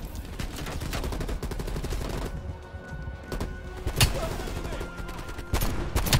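Helicopter gunship gunfire in the video game Call of Duty Cold War: sustained rapid automatic fire with dense repeated shots and a few heavier booms, loud and continuous throughout.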